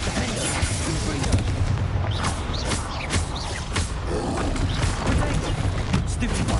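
A Confringo fire spell blasts in Hogwarts Legacy, sounding as a dense run of explosive bursts and crackling booms over steady combat noise, with no voices.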